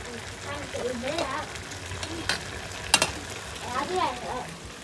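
Jeera rice being stirred in a pot as it cooks, soft scraping and sizzling with a few sharp clinks of the spoon, while someone talks over it.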